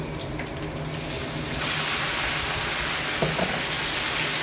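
Pork soaked in soy sauce, vinegar and pepper hits a pan of browned garlic and cooked onions for Filipino pork igado, and a steady loud sizzle swells up and holds, with a faint stir or clink near the end.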